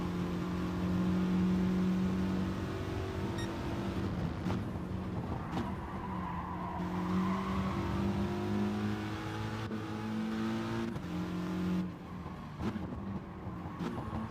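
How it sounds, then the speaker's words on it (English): Engine roar from a pack of GT4 race cars in a racing video game at Fuji circuit, droning steadily with harmonic tones shifting in pitch as cars pass, loud and continuous throughout. "Watching these cars race through."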